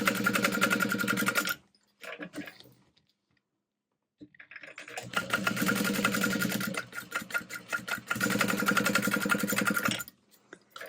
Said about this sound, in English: I am sewing just 1/8 of an inch from that edge to top stitch all of that together